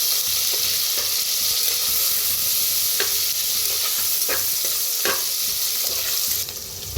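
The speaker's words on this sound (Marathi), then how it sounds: "जे आपण हिरवी मिरची लसूण चेचून घेतलं होतं ते तेलात भाजून घेऊया हलवून भाजून घेऊया" Crushed green chili and garlic sizzle in hot oil in a pan, with a steady frying hiss and a few sharp scraping stirs of a spoon at intervals, close and moderately loud, no voices.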